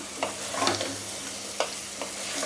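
Quail pepper fry is stirred through masala in a hot pan, with a spatula scraping and clacking a few times over a continuous sizzle.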